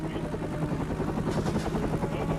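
A military helicopter races low over flat desert terrain, its rotor chopping in a steady, loud, continuous thrum that fills the whole stretch with no voices over it.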